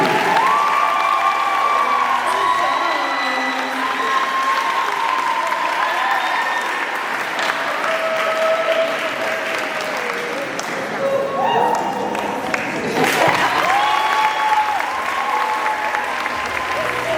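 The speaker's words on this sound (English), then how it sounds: "So let's give Mr. Shumba a clap." An audience at a school gathering applauds a guest, a full, sustained wash of clapping from many people lasting throughout, with faint crowd murmur and tonal background sounds mixed underneath.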